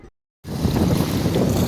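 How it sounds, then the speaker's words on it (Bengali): A trawler boat passes on the Meghna river at night during high tide, heard as a loud, steady rush of engine, wind and churning waves close to the microphone after a brief silent gap. "ওই যে একটা ট্রলার যাচ্ছে, কি পরিমাণ নদীর ঢেউ"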